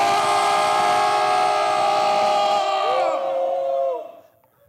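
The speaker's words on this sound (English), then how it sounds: "Can we roar right quick?" A live show crowd roars loudly on cue, a sustained mass of voices and shrill whistle-like cries that hold for a few seconds and then fade away.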